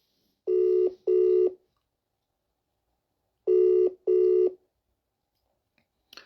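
A telephone being dialed to call someone: two pairs of short, loud keypad tones, each pair quick and evenly spaced, separated by about two seconds of silence, with no talk.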